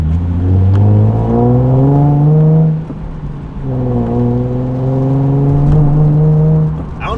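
A Nissan 370Z Nismo engine, a certified pre-owned car on its first drive, revs loudly to around 3,500 rpm twice, each pull a rising tone that drops off briefly in between.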